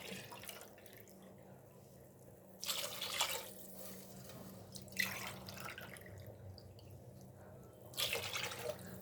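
Water poured from glasses into rice for bagara rice, four glassfuls for two of rice, heard as three separate splashing pours over a quiet room background.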